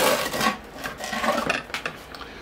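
Sand is poured and scraped into a bonsai pot before watering, giving a close, dry gritty rasping in short uneven strokes and scatters, with no voices.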